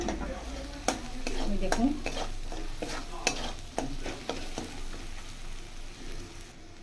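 Spice paste fries in a pan for a fake omelette curry, giving a soft steady sizzle while a utensil stirs and taps against the pan in scattered scrapes and clinks; a voice speaks briefly.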